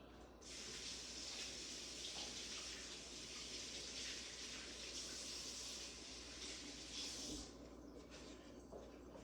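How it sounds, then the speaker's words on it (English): Kitchen sink tap running in a steady gushing spray while dishes are rinsed, a continuous close water sound lasting several seconds before it is shut off. "I'm just going to walk over to the sink and wash it up"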